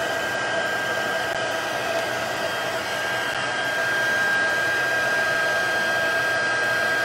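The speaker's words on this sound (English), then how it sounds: "So I'm just going to heat set this with Whisper White." A heat tool blows steadily while setting Whisper White embossing powder, producing a loud, constant fan-like whirr with an even hiss that holds without a break, close to the microphone and with no speech.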